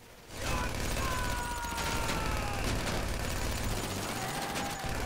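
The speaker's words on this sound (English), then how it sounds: "Liam, I'm trying to cover you from gunfire." Rapid bursts of gunfire during a chaotic video game firefight, sustained and dense throughout with whooshing and mechanical effects, while voices talk over it.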